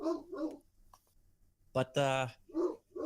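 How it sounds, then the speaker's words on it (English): A dog gives a couple of quick barks in the background during a group playing a tabletop role-playing game, with people talking just before and after. "Someone's dog was going off."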